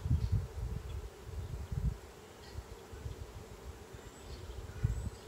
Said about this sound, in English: A lot more bees.